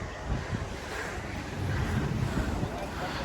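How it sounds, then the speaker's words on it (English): Ocean waves and wind sweep across Dhanushkodi beach near Rameshwaram, a continuous broad rush of surf and buffeting wind noise on the microphone. "And here this is the beach"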